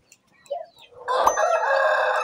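A rooster in a poultry yard crows once, a loud, close, drawn-out cock-a-doodle-doo that follows a few soft clucks and scratchy sounds and holds steady to the end.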